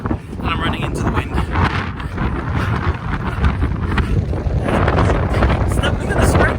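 Strong wind buffets the microphone of a runner heading into it during a masters athletics half marathon. The rumbling roar is loud, continuous and gusty and fills the whole clip.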